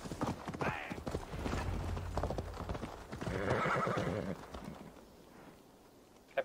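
A horse in the video game Assassin's Creed Valhalla clops along with steady, close hoofbeats, and a loud whinny rises midway before the galloping fades, with no clear talk over it.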